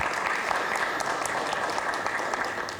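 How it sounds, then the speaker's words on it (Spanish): An audience at a digital business conference applauds a panel guest: dense, even clapping from a room full of people, steady and moderately loud for a few seconds. "Un aplauso para ella, por favor."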